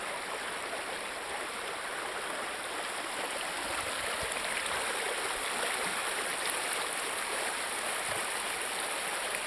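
A mountain stream flows in a steady, broad rush of water, constant and unbroken, heard alone without voices at moderate distance.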